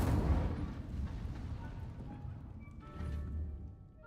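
Incendio fire spell cast in the Hogwarts Legacy video game: a deep rumbling whoosh of flames that swells and roars steadily, then fades and flares again, with game music tones entering near the end.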